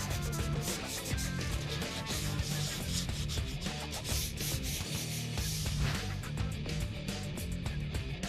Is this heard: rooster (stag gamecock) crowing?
no